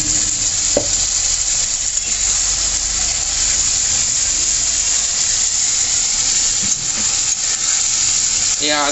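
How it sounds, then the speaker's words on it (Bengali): Ginger garlic paste sizzles loudly and steadily in a frying pan of browned onions for Bengali mutton kosha, a constant frying hiss with occasional stirring scrapes throughout. "এরপরে আমি এখানে আদা রসুনের পেস্ট ঢালবো।"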